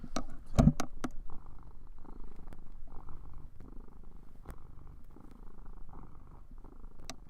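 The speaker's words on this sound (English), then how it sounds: "Cat's purring really loud." A loud, steady cat purr rumbles continuously in close range, with a few sharp clicks and knocks near the start and end.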